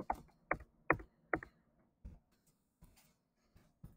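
Keys tapped on a computer keyboard while entering calculated values for a math problem, a handful of sharp, spaced clicks, some in quick pairs, fairly close, with no talking over them.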